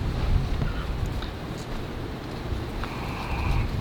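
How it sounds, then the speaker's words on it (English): Wind gusting outdoors during a rotten wood repair, a steady broadband rush and rumble that swells and buffets against the microphone throughout, loud and close. "And here comes the wind."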